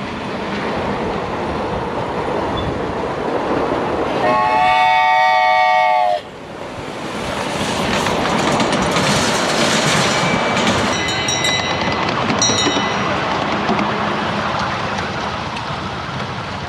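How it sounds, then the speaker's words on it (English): Model trains rumbling and clattering continuously along the tracks, with bursts of a high, tonal horn or whistle sounding over the running noise. "There certainly was a variety of train models running up and down the lines"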